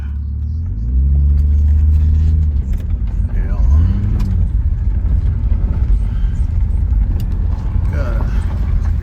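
An mk3 Toyota Supra pulls away through a field, its engine revving up and down at first, then settling into a continuous low rumble with bumps and knocks, close and fairly loud.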